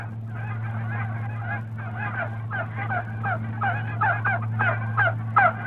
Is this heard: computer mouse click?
no